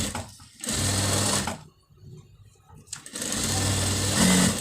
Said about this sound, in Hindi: ये सिलाई हम लगा देंगे फटाफट से